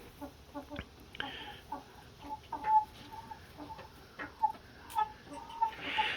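Repeated raspy, clicking bird calls from guinea fowl, fairly faint and somewhat distant, with short irregular bursts and outdoor background noise.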